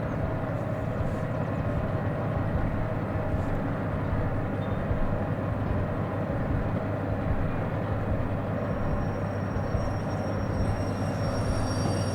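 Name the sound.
DE6 diesel locomotive moving in the video game Derail Valley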